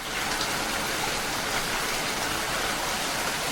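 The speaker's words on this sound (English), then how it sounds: "Children, have you heard the sound of rainfall?" Rain falls in a steady, dense hiss, an even continuous wash of drops with no breaks or talk.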